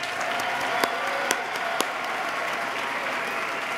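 Sustained applause from a large audience at the 2014 New York State of the State address, steady and dense throughout with a few sharp louder claps standing out.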